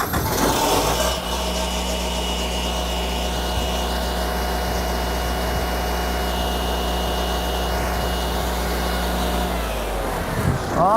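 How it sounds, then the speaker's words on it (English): A standby generator engine cranks and settles into a loud, steady running drone with a deep, even hum, close by and constant for about ten seconds before cutting off, with no one speaking. "we're gonna crank this one up, see if we can't get it running"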